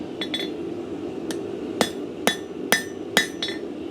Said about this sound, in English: put the nose below the side, hammer from the back,